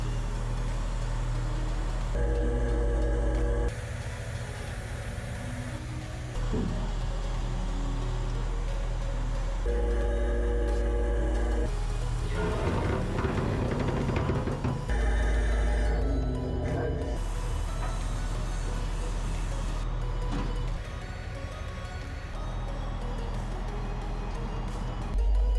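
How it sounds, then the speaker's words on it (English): Heavy truck idling steadily while its trailer is lowered, a continuous low engine drone with hydraulic whine and some clunks midway, fairly close and loud throughout. "Up with the lock and down with the trailer."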